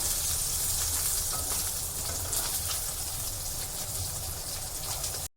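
Mudskipper fish fry in hot oil on their underside, a steady dense sizzle and spatter heard up close, with no talking, continuing unbroken before cutting off abruptly.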